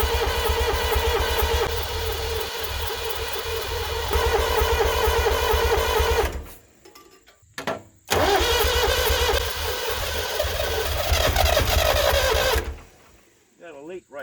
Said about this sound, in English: it started firing on one cylinder